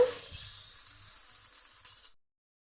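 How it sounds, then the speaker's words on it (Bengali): Soybean chunks frying in oil left over from frying potatoes, a steady close sizzle and hiss with faint stirring, fading out and stopping abruptly near the end. "সয়াবিনে এতটা তেল খেয়ে নেয় তার জন্য আলুটা ভেজে যে তেলটা ছিল সেটার মধ্যে আমি সয়াবিনটা একটু ভেজে নিচ্ছি"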